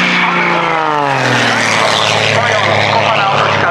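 An aerobatic propeller airplane performs at the Dubová air show, its engine roaring loud and close with a pitch that sweeps as it rolls and turns, while a commentator talks over it.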